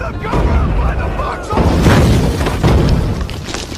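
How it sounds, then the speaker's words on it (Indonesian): German artillery barrage on a WWII battlefield: loud, dense booming explosions in quick succession, with heavy blasts around the middle and end over a continuous roar, and voices mixed in. "Serangan artileri Jerman terus saja menghujani mereka dari segala arah."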